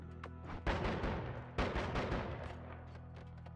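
Two dense bursts of rapid shotgun fire from the Noita video game, one near 0.7 s and a second near 1.6 s, loud and crackling over a steady game hum with no talk.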